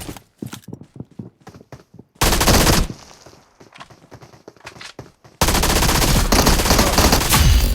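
Video game gunfire cracks in quick single shots at first, then breaks into loud sustained bursts of automatic fire, close and harsh, with no speech.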